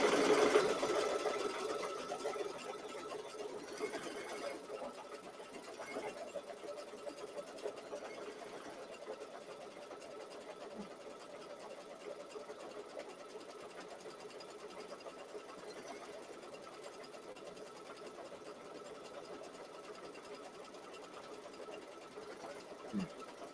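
A ScanNCut embroidery machine stitches a design, running a steady mechanical whirr with a fast needle rhythm throughout, starting slightly louder and settling into an even, moderately quiet hum.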